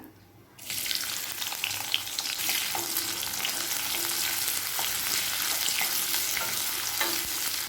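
Onion sizzles steadily in hot oil, a loud continuous crackling hiss with occasional stirring scrapes, no talking.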